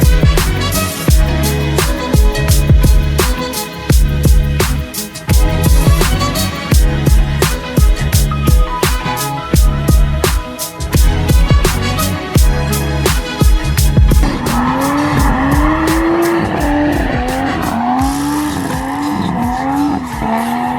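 A car drifting with continuous loud tire squeal and a revving engine, the squeal pulsing rapidly and steadily, then shifting into a wavering, rising and falling screech near the end; close, loud and unbroken throughout.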